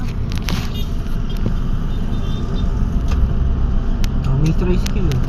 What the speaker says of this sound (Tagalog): Oh, may tricycle.